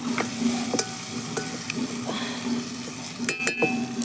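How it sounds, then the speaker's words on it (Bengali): Food with a little turmeric stirred and fried in a pan for a home prayer offering: a steady close sizzle with occasional light clinks and scrapes of a utensil against the pan, alone without voices. "একটু ভাজা ভাজা করে নেব"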